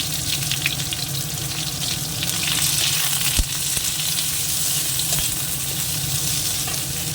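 Onions and chili fry in a pan with a continuous dense sizzle, close and fairly loud, broken by occasional soft clinks and stirring.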